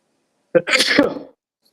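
One sharp, close sneeze with a quick intake and loud burst, heard alone in an otherwise quiet room.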